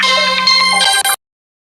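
A new Motorola phone plays its "Hello Moto" ringtone, a loud, bright melodic jingle that runs about a second before cutting off abruptly into silence.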